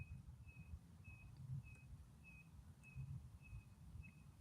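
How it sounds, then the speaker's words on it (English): A faint, regular whistling tone repeats about every half second outdoors, a distant car alarm chirping steadily under low rumbling background noise. "Sounds like almost like a car alarm."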